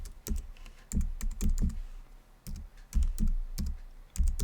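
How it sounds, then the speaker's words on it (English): Clicky computer keyboard keys tapped in short irregular bursts, close by and fairly quiet, with no talking. "I'm typing."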